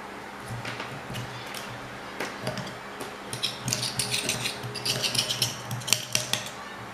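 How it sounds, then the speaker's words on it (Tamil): Candle wax is scraped and cut with a blade, severing the wick thread, giving close, quiet scratching and rasping strokes with light taps that grow busier toward the end, with no talk. "இங்கே இருக்கிற மெழுக சமமாக சீவி எடுக்கணும் பாருங்கள். இப்படி அறுக்கும்போது அந்த திரியும் அந்த நூலும் கட் ஆகிடும்."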